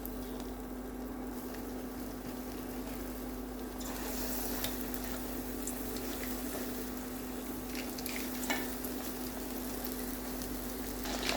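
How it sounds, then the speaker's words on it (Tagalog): Chicken frying in reheated oil over medium heat, a steady broadband sizzle with a constant low hum beneath, growing slightly louder and busier partway through, with occasional sharper pops. "With our reheated oil, let's fry our chicken."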